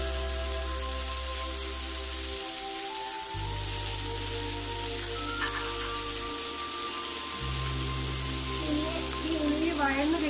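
Chopped onion sizzles in a pan for egg chilli under a steady, rain-like frying hiss. Sustained background music tones play over it, with no clear stirring.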